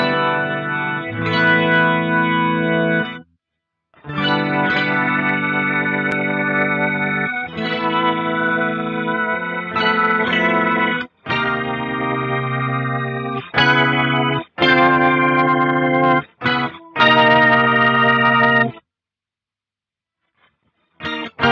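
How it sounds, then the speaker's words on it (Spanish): Guitar played through an Electro-Harmonix C9 organ machine pedal gives rich, sustained organ-like chords with a swirling chorus modulation, in several phrases separated by short pauses. "sonido de órgano."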